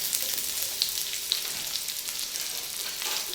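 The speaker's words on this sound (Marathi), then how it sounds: "कांदा अगदी काळपट होईपर्यंत भाजायचा आहे आपल्याला" Onion fries in oil on a hot tawa, a bright, crackling sizzle that runs steadily and close, dotted with a few sharp pops, no one speaking.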